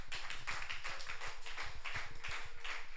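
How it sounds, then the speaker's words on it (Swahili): A church congregation claps for Jesus at the close of a Wednesday prayer service, with many dense, fast, overlapping hand claps sounding steadily throughout, loud and close, with no talking. "Pe Yesu makofi mengi."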